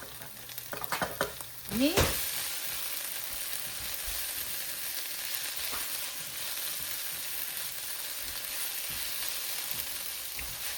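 Onions and green chilies fry in a pan for a dosa filling. A few utensil knocks and scrapes come first, then a steady, even sizzle carries on alone, with one word spoken briefly.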